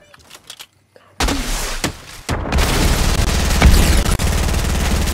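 Rapid video game gunfire erupts loud and dense after a brief quiet opening, a sustained burst of shots in an online battle match played with friends.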